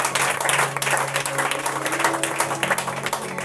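A church congregation applauds loudly and steadily for a few seconds, a dense wash of clapping hands filling the room with faint musical tones underneath.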